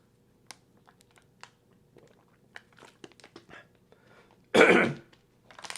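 A single sharp cough bursts out near the end after quiet handling clicks and small sounds.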